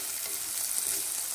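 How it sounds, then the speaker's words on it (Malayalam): Shallots sauté in hot oil in a pan for a Kerala sardine chilli curry, making a continuous soft frying hiss with faint crackles and no voices. "ചുവന്നുള്ളി ചുവന്ന് വരുന്നത് വരെ വഴറ്റുക"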